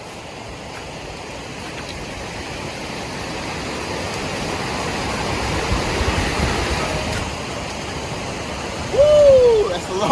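A waterfall reached on foot through snow during a May snowstorm, its steady broadband roar continuous and fairly close throughout, swelling slightly toward the end, with a brief hoot-like tone near the close.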